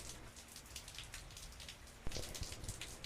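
Indoor artificial rain in the Rain Room art installation falls in a steady, soft patter of drops, with a sudden sharper splash or thud near the end.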